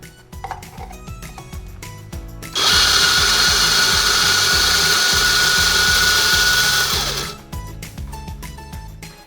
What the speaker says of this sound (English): by doing that, we grind the coffee beans remained here